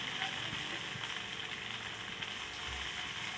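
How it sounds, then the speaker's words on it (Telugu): Ginger paste with turmeric, chili powder and salt fries in a pan, giving a continuous soft sizzle and crackle at low level with no talking. "సో వేసుకున్నాక దీన్ని బాగా వేయించాలి."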